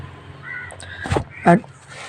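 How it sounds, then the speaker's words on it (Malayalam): A single harsh crow caw rings out once in the video game Granny 3, amid soft background sound and a brief voice. "ഫയർവുഡ് കത്തിച്ചാൽ കാക്ക പറയിപ്പോയിക്കോളും."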